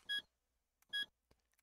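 A buzzer fitted as a reverse alarm on a truck in Stormworks sounds two short, sharp electronic beeps spaced about a second apart, clear and isolated against near silence, with faint clicks in between.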